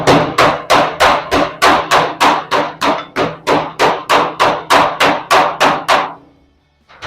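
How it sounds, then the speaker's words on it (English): A flat-headed panel beating hammer strikes the lip of a classic car's steel roof skin, about eighteen loud, close, evenly spaced metallic blows in a steady rhythm before the hammering stops. "we've got a panel beating hammer with its flat head, is just want to slightly beat down the lip a little bit"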